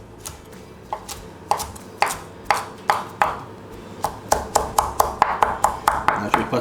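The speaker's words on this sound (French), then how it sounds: "Je vais mettre un petit concassé de basilic." A knife coarsely chopping fresh basil on a board for an octopus salad: sharp, crisp strikes, sparse at first, then speeding into a quick, steady rhythm close up, with a voice speaking at moments.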